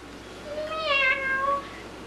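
A single drawn-out meow, rising then falling, voiced by a child imitating a cat, moderately loud over a faint background hum.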